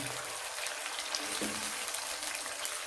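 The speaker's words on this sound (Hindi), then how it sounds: "थोड़ा सा पानी इसमें और शामिल करेंगे।" Water trickles and splashes steadily into a pan of cooking masala with fried onions and two medium tomatoes, a continuous close watery pour with no talking.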